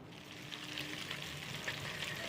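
Ghee heating in a home kitchen pan for nethi biryani, giving a steady low sizzle with faint crackling pops throughout, alone without voices.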